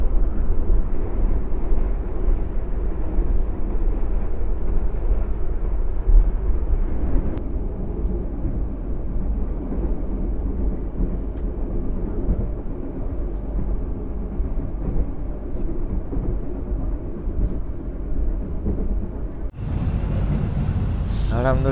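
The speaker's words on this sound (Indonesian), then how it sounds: "tadi kereta Senja Utama Jogja sampai di stasiun Yogyakarta" The Senja Utama Jogja passenger train arrives at Yogyakarta station with a loud, continuous low rumble and roar that holds steady for about twenty seconds before a sudden shift in the noise near the end.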